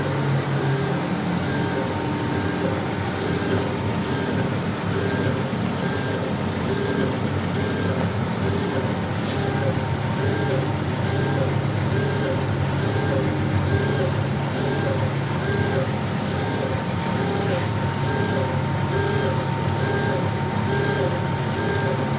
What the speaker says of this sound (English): the suction motor is sucking the smoke, and it will release the smoke and dust particles through this outlet